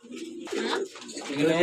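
Pigeons in a loft give soft, throaty coos in two or three close, moderately loud phrases, with a brief higher call at the end.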